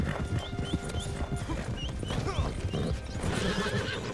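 Horses neigh and whinny over a steady clip-clop of galloping hooves in the Western video game Red Dead Online, with repeated high whinnies above continuous close hoofbeats.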